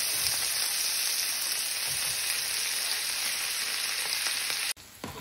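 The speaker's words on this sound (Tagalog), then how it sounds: "At the same pan guys, take out some of the oil. Then, saute all the rest of the ingredients." Ingredients sauté in oil in the same pan used for frying fish fillet for sweet and sour fish, giving a steady, loud, close sizzle that runs unbroken before a brief stir-like break near the end.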